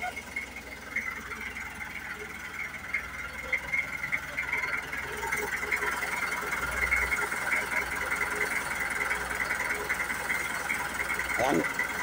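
A small wooden outrigger boat's engine runs steadily throughout with a droning, knocking hum, while people talk nearby over it.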